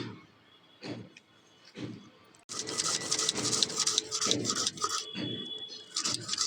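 Coconut being ground into a paste in an electric grinder for steamed hilsa in banana leaf, starting with short bursts under faint talk, then a loud, steady whirring grind that runs to the end.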